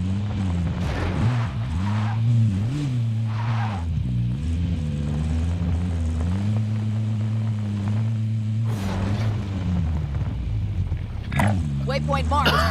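Car engine driving in Call of Duty Warzone on the Caldera map, a steady droning rumble that rises and falls with throttle, with brief tire-like squeals and voices talking over it throughout.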